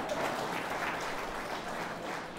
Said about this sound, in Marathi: 3 महिने टिकले बापा, एकदा यांच्यासाठी टाळ्या वाजवा